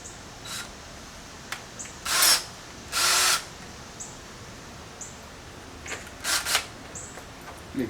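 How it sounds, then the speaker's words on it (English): Short, loud bursts of a power drill cutting a second hole through a plate for a car stereo test bench, separated by quiet gaps with faint handling clicks. "Alright, drill my second hole."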